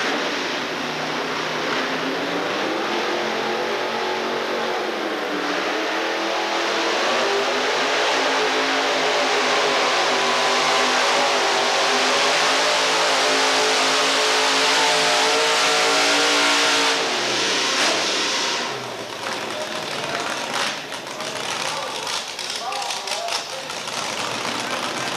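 A modified Chevrolet pulling truck named Dixie Diamond roars at a 1987 Murray, Kentucky outlaw truck pull, its engine revving hard and sustained for about twenty seconds before easing off, loud and close.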